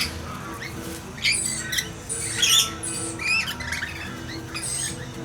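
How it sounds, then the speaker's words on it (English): A new flock of young birds squawks in harsh, overlapping bursts, loud and close over a quiet background, with scattered chirps between the calls. "The new flock, young birds."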